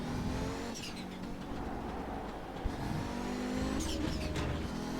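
An Audi 90 IMSA GTO Quattro race car engine in a racing video game revs and accelerates with a throaty, rising whine, steady and continuous, somewhat distant and low in level.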